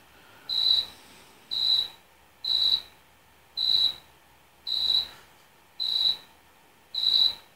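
A cricket chirps in the video game PUBG Lite, seven evenly spaced, high, shrill trills about a second apart, loud and close against quiet background noise.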